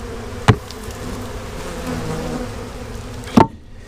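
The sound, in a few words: honey bees buzzing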